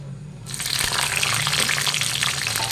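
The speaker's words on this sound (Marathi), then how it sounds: "कमी जास्त तळून घ्यायचं आपली मस्त मिरची तळली गेलेली आहे" Slit green chilies drop into hot oil for frying and burst into a loud, dense, hissing sizzle that holds steady after a brief quiet start, close by with no talk.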